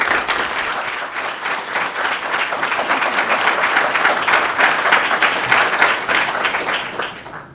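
A seminar audience applauds to welcome a speaker at a leadership series event, steady dense clapping from many hands sustained for several seconds before tapering off at the end.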